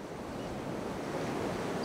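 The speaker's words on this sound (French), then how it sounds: "on voit bien comme le vent balaye le territoire" Steady wind rushes and roars across the microphone on Tresco in the Isles of Scilly, a continuous broadband blowing with no pauses.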